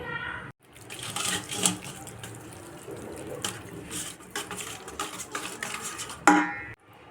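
A spoon scrapes and clinks in a bowl as chili, cumin and coriander powders are stirred together for dahi bora, with soft kitchen clatter and faint watery sounds. The stirring is steady and close with no one talking.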